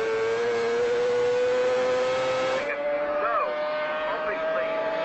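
Supersport motorcycles race on the Ulster Grand Prix road circuit, one engine note climbing in a long, steady high whine before it drops as the bike changes gear and revs again, loud and close throughout.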